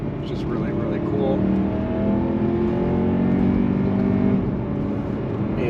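A BMW E92 M3 with an M Performance exhaust holds a steady, hollow metallic hum at a constant engine note, loud and close throughout with no break.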